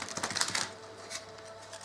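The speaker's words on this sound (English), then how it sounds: "let's do a little bit of shuffling and see what's in store for you guys" Tarot cards being shuffled by hand in a quiet room, a quick burst of crisp riffling and rustling for about half a second, then fainter scattered card flicks trailing off.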